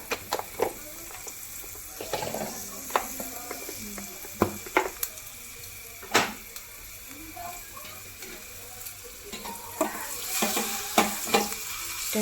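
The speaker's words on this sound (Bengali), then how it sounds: "আর একটু রসুন বাটা দেবো বেসিক্যালি রসুন তেল যেটাকে বলে" Garlic paste sizzling in hot oil in a home kitchen pan, a steady crackling fry with sharp pops and occasional stirring scrapes throughout.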